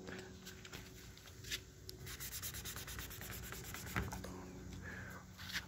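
Sanding on the door of a 1978 Chevy C10 pickup, steady abrasive rubbing strokes up close, moderately loud and continuous with slight swells in rhythm, no talking.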